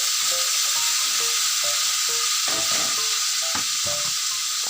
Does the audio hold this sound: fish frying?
yes